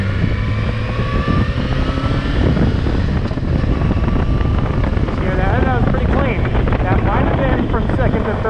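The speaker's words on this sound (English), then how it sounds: "Let's downshift a little here. See, it over rev, bike kind of jumped out a little bit." A motorcycle engine droning loudly close to the rider, downshifting and revving over a street with speed bumps, pitch rising and falling under strong wind rumble while someone talks over it.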